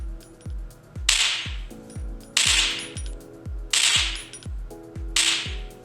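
Video game gunfire played through Sony WF-C500 earbuds: a steady rhythm of sharp shots, roughly five per second, with four louder bright bursts layered on top, close and loud, with no talking.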